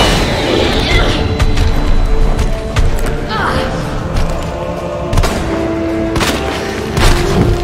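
A flashbang grenade goes off in the Resident Evil 2 video game as a couple of loud booming bursts with crackling debris. Game sound and a player's voice fill the background.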